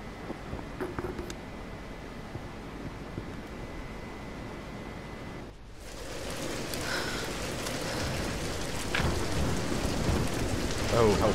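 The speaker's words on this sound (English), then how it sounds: "We're getting closer to the storm." Steady rain hisses through a stormy scene in the video game Tomb Raider, a dense continuous wash that swells slightly louder partway through, with no clear thunderclap standing out.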